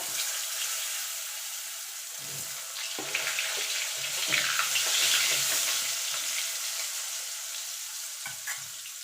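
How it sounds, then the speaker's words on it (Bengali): Potatoes frying in oil left over from frying fish, a continuous close sizzle with soft bubbling and occasional stirring scrapes, no voices present. "এই তেলে আমি আলুটা আর কপিটা ভেজে নেব প্রথমে আলুটাকে ভেজে নেব"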